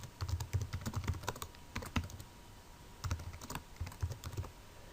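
Rapid keystrokes on a computer keyboard come in bursts with short pauses between them, close and clear, while a CNC contour operation for a center ring is set up with a 1/2 inch flat end mill.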